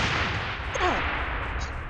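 A single distant gunshot rings out in PUBG, a sharp crack with a brief tail over steady game ambience, with a faint whistling streak around it.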